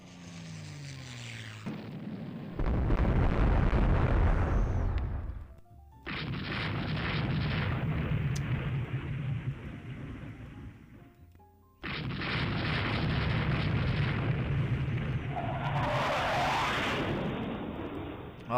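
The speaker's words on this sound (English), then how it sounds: "our medium bombers are dropping missiles" Bombs dropped by medium bombers in the naval strategy game Rule the Waves 3 burst as heavy booming blasts in three long roaring bursts separated by short gaps, loud and close.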